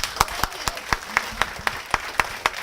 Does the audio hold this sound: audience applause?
yes